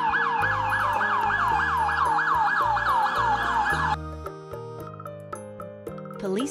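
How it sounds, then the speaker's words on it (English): Loud wailing police siren cycling up and down rapidly for about four seconds, then cutting off, leaving fainter tones and a short whoop. "police car,"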